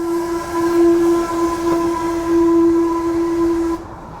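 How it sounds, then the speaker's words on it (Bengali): A loud, steady steam whistle from a passing Darjeeling toy train sounds for about four seconds over a low rumble, then cuts off abruptly. "টয় ট্রেন যাচ্ছে আমাদের থেকে"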